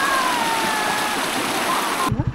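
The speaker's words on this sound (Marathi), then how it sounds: "दोघांच्या मध्ये एक छोटा धबधबा आहे" A small waterfall between two points along a path near Dapoli rushes with a loud, broad steady roar that cuts off near the end, leaving a few low knocks.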